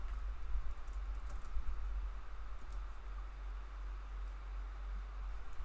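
Computer keyboard typing, a faint run of light irregular key clicks over a low steady hum, quiet and fairly close, with no talking.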